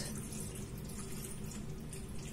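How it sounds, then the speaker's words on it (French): Cold tap water runs steadily into a pan while flan is being made, a continuous hissing splash at low level with no talking over it. "Et je mets de l'eau du robinet."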